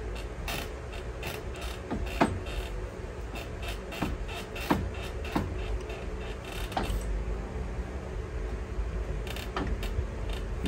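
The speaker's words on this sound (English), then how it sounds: "let me actually turn the wheel" Motorcycle wheel turned slowly by hand during a Screaming Eagle cam installation, giving repeated mechanical creaks and ticking clicks at an uneven rhythm over a steady background hum, close by.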